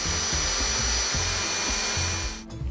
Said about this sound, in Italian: si fora col trapano ma senza percussione